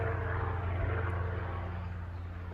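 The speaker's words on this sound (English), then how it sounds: "Helicopter." A helicopter flies overhead above a garden, its steady engine drone and rotor rumble loud and continuous, easing slightly by the end.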